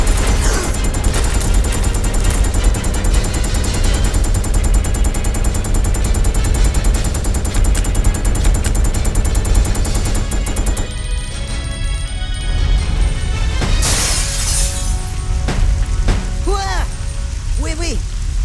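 Gunfire in the Resident Evil Code: Veronica video game, a long loud rapid burst of automatic shots that thins into scattered reports and crashes, with talk over parts of it.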